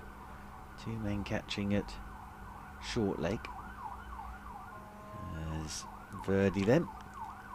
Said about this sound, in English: That's a fire engine.